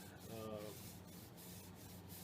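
Stainless steel wool rubbing over a tung-oiled redbud wood vase, a quiet, continuous close-up scratchy swishing with faint rhythmic strokes and no speech.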